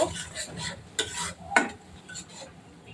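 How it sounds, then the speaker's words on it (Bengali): Spice paste of ground cumin, coriander powder and salt fries in a pan while a spoon stirs it, making several distinct scraping clinks over a soft, low sizzle. "এখন দিয়ে দিব 1 চামচ জিরা বাটা, 1 চা চামচ ধনিয়ার গুঁড়া আর পরিমাণ মতো লবণ দিয়ে ভালোভাবে কষিয়ে নিব।"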